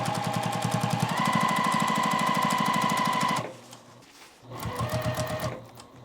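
A sewing machine stitches fabric for a quilted pillow, a fast, even mechanical chatter close up that runs for a few seconds, pauses briefly, then resumes for a shorter burst.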